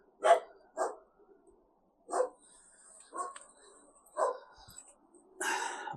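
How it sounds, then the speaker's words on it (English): A neighbour's dogs bark in a string of separate sharp woofs and yelps, about seven bursts spaced irregularly over several seconds, moderately close and otherwise quiet between barks. "Apologies for my neighbour's dogs."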